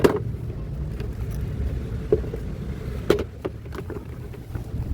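A Tixx digital air cooler fan with weakened airflow runs at its first speed setting, giving a steady close whoosh of air with a few faint clicks.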